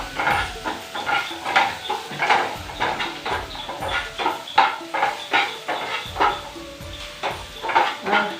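Macaroni with vegetables being cooked in a pan at home: repeated clinks and scrapes of a utensil stirring against the pan, with a faint sizzle underneath, close by and steady.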